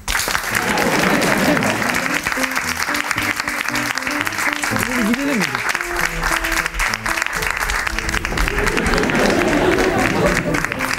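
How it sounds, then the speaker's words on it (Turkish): Studio audience applause on a Turkish comedy show, loud and sustained throughout, with music playing underneath and a few voices mixed in. "Alkışlayalım"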